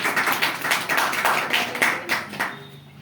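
Audience applause at a product talk, a crowd clapping in quick uneven bursts that fade out after about two and a half seconds.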